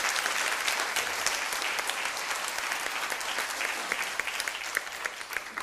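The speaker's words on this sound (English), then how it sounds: "Give them the biggest round of applause" Audience applause at an Empowering Women To Succeed 2017 event, a dense, steady wash of many hands clapping that holds at an even level throughout, with no voices over it.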